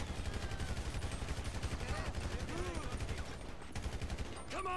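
Rapid, sustained gunfire from the video game GTA 5 rattles on in a steady rhythm for several seconds, loud and close, briefly thinning near the end.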